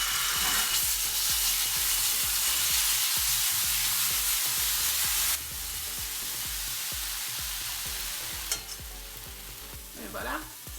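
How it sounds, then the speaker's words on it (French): Vegan hoisin balls frying in a pan, a dense, loud sizzle throughout with rapid rhythmic scraping and tapping as they are stirred and turned, the hiss briefly dropping midway. "il faut les faire griller un peu légèrement"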